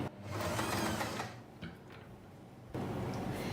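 A sewing machine runs a lock stitch to finish a puff sleeve seam: a close, steady mechanical whir that pauses briefly with a few clicks, then starts up again.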